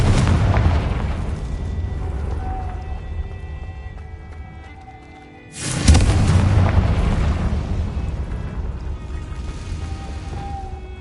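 A loud, booming explosion from a Confringo spell in Hogwarts Legacy, with a long rumbling decay, then a second big blast midway that rolls off slowly again.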